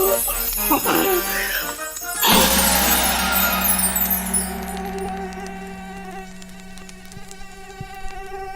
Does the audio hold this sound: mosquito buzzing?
yes